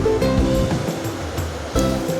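Shredded potatoes frying in very hot oil give a steady, close, loud wash of bubbling sizzle with a brief stirring surge near the end and no voices.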